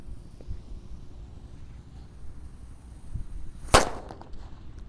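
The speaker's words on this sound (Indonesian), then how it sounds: "Lanjut ini ada mercon raja kera ya. Kita nyalakan." A single monkey king firecracker goes off outdoors with one sharp, loud crack near the end, after several seconds of quiet background rumble and wind.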